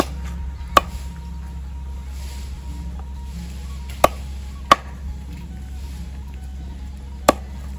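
Frog meat being chopped for a spicy stir-fry, a few sharp cleaver strikes spaced irregularly over a steady low background hum.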